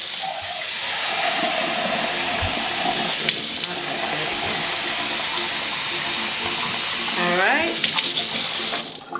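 Tap water runs into a measuring cup in a home kitchen, a steady loud hiss and splash that goes on almost without a break, the pitch shifting near the end as the cup fills.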